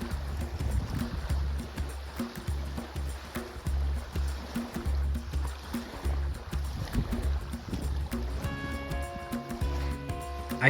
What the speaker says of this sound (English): I wanted to split the journey by paddling across the lake